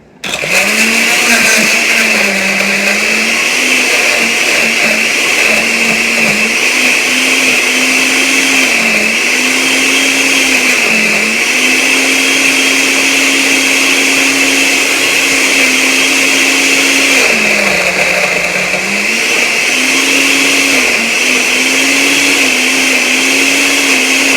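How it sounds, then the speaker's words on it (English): A blender whirs loudly as it mixes a Bowmar Nutrition protein shake, the motor running steadily for over twenty seconds with several brief dips in pitch as the load shifts, and no voices over it. "All right, and I'm gonna blend it."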